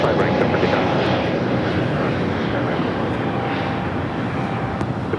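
A Delta airliner takes off from runway 25 right at Los Angeles LAX, a loud, steady broadband jet roar holding near-constant level throughout, with speech also present beneath the engine noise.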